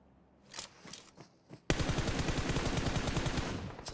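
Gunfire in PUBG Mobile on the Erangel map: a few scattered single shots, then a sudden loud burst into sustained rapid automatic fire that continues to the end.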